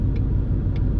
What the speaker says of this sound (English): That's why you're going to have to listen to the AC blowing.